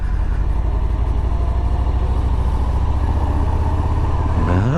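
A 2019 Harley-Davidson Fat Bob 114 on a chilly autumn road, its heavily muffled V-twin droning steadily and loudly under acceleration, with no one speaking.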